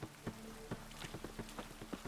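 Light rain in The Witcher 3: The Wild Hunt patters steadily on a surface, with scattered sharper drops tapping irregularly, faint and close.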